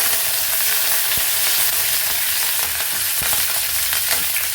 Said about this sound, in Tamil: பொரிஞ்ச உடனே கருவேப்பிலை போட்டுக்கிறோம்.